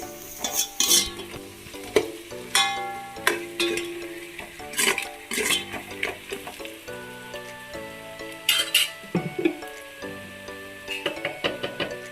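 Onions frying in oil for chicken biryani crackle and sizzle while a spoon knocks and scrapes the pot in irregular strokes, close up and with no talking.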